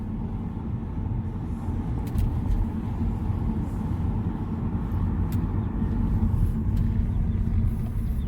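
A 2006 BMW Z4 with an inline six 3-liter engine idling while its cooling system is checked after a coolant leak fix, a steady close low rumble with faint clicks above it, no talk.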